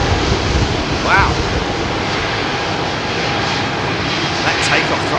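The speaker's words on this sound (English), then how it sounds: "That takeoff thrust was very derated after everything I said there." Steady roar of a jet airliner running up derated takeoff thrust at London Heathrow Airport, a continuous broadband rumble heard from inside the cabin with little change over the seconds.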